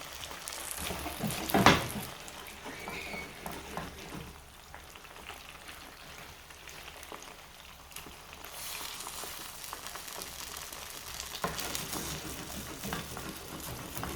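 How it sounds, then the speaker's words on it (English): Sausages frying in oil in a pan being shaken, steady sizzling crackle throughout, with a sharp clatter early on and brief louder bursts of frying later. "I keep on shaking so that my sausages get to be in oil"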